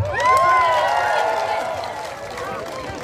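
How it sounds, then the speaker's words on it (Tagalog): A crowd at a gathering of tribes in Bongabong, Oriental Mindoro, cheers and shouts loudly with scattered clapping, a dense babble of voices swelling at first and then gradually fading. "Pumalakpak!"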